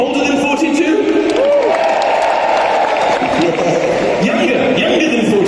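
A large comedy arena crowd in Belfast applauds and cheers, loud and continuous, with whoops and shouts rising above the clapping.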